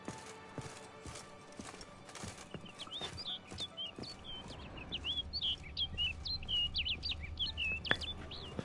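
Birdsong in The Witcher 3: high chirps and trills grow busier partway through, layered over soft clip-clop hoofbeats and low ambient rumble. The sounds are moderately faint, with no speech.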